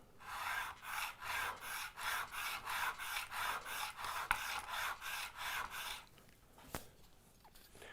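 A metal file rasps across saw-plate teeth for a turning or coping saw in rapid, even back-and-forth strokes, about a dozen close and loud over six seconds, then stops, leaving a few faint clicks and taps.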